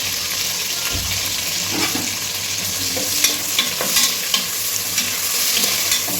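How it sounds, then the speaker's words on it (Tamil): Sliced onions and green chillies fry and sizzle steadily in a hot pan with occasional stirring scrapes, a continuous close hiss throughout. "இப்போ வெங்காயம் போடுறேன்."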